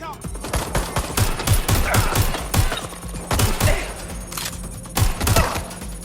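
Rapid bursts of automatic gunfire and single shots crack in a Watch Dogs: Legion video game firefight, loud and close, coming in irregular clusters with brief pauses and a voice faintly heard amid the shooting.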